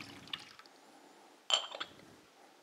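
Water is poured into a bowl of satay sauce, making a faint, brief splash and a light clink of glass against the bowl in a quiet kitchen.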